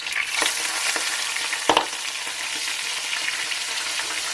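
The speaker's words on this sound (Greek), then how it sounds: "Ρίχνουμε ένα κρεμμύδι ψιλοκομμένο" Finely chopped onion sizzling steadily in a pot, loud and close, with a couple of brief stirring scrapes and no talk.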